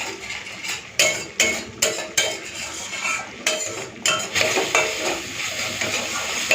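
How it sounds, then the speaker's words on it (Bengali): Spice paste stir-fried in oil for a pointed gourd malai curry crackles and sizzles as a utensil scrapes the pan in repeated rhythmic strokes, close and fairly loud. "এই মশলাটাকে সুন্দরভাবে একটুখানি কষিয়ে নিই, তেল ছাড়া অবধি একটুখানি কষিয়ে নেবো"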